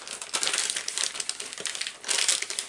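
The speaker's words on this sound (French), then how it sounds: "je vais te déballer le châssis" Hobao Hyper Star RC car chassis being unwrapped from its packaging, with close, continuous crinkling and crumpling of plastic wrap in uneven bursts.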